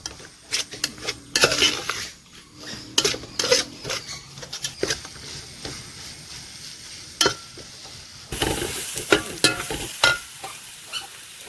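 Fennel, turmeric and pepper powder roasting in a pan for crab roast, with close, irregular scraping and clinking of a spoon against the pan over a soft sizzle, growing busier near the end.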